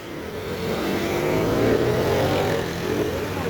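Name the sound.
heavy road traffic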